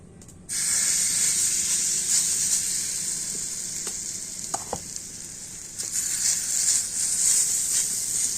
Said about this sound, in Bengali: এবার আমি সেই মিশ্রণটা নিয়ে ফ্রাই প্যানের মধ্যে দিয়ে দেব